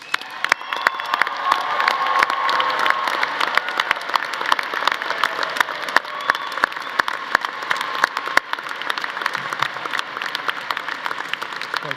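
A commencement audience applauds first-generation graduates at a College of Natural Sciences ceremony, dense sustained clapping across a large hall with a few scattered cheers, steady throughout and slightly fuller at the start.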